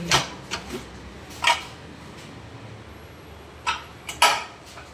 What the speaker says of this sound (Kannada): ಪ್ರೆಷರ್ ಹೋಗಿದೆ ಲಿಡ್ ಓಪನ್ ಮಾಡ್ತಾ ಇದ್ದೀನಿ ಕುಕ್ಕರ್